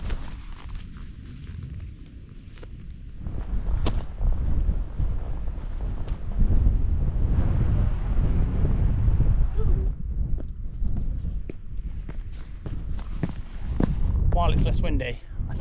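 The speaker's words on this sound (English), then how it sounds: "it's a very sunny day and a very windy day" Strong wind in the Edale Valley of the Peak District on a sunny day buffets the microphone in heavy, continuous low rumbling gusts that swell and ease, with a person talking throughout.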